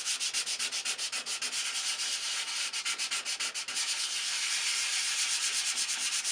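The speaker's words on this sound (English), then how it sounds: "So one final sanding." Rhythmic sanding strokes on a model rocket fin, rapid back-and-forth scratching that pulses regularly, then settles into a steadier rubbing hiss, close up with no voices.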